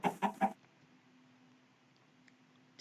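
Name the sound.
chicken clucking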